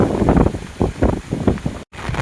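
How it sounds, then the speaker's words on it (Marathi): Strong wind roars and buffets the microphone near a village waterfall in the rain, a heavy, gusting low rumble that surges and dips throughout. "पाऊस पण खूप चालू आहे, हवा पण खूप चालू आहे इकडे"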